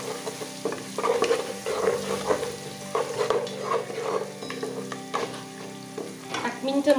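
Small local onions frying in hot oil while being stirred in a pan for a Bengali pulao, a steady sizzle broken by scraping and clinks of the spoon against the pan.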